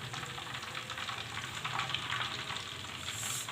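Mustard fish fries in oil as crispy Lahori-style fried fish, giving a soft, continuous bubbling sizzle at a low, even level, close but fairly quiet, with no voices.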